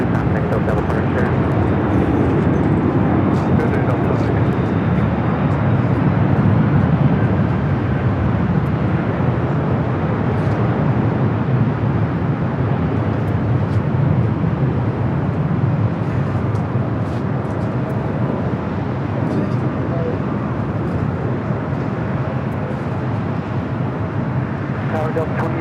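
Air Canada Airbus A330 jet, arriving from Madrid, lands on runway 24 at Los Angeles LAX. A steady, loud broadband engine roar holds for the whole stretch, with tower radio chatter running underneath.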